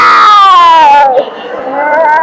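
A voice mimics cats fighting and biting, a long, loud, close yowl sliding downward, then a brief break and a second wavering wail.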